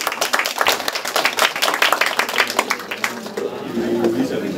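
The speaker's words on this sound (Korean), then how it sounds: "박수 부탁드립니다." Audience applause at a Korean social studies textbook publication event, dense clapping that lasts through the clip and thins toward the end as voices come in.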